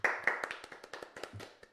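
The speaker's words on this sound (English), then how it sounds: "I tried clapping away from the mic." A few people clap close to a podcast microphone, a quick run of sharp, loud, uneven claps spaced irregularly over under two seconds, with no talking.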